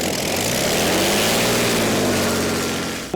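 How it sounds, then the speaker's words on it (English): Loud, throaty roar of a vintage piston-engine hydroplane racing boat at the 2012 Columbia Cup, sustained and close, with a deep pulsing drone that fades slightly at the end. "it's about the classic sound of the piston engines."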